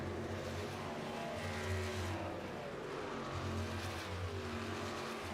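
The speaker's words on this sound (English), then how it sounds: "Just seems to have shifted into high gear for the number 30 truck here." A racing truck engine in the iRacing BSR Truck Series at Las Vegas drones steadily at high revs, a sustained loud mechanical roar with slight pitch shifts as it holds top gear, no voices over it.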